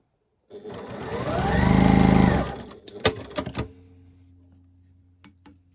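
A sewing machine stitches quilt block pieces in one run of about two seconds. Its whirring motor climbs to a steady hum, then winds down into a few clicks and taps from the machine.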